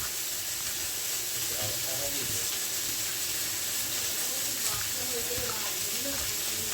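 Onions frying in oil in a pan, a continuous crackling sizzle with light stirring clatter, steady and close throughout.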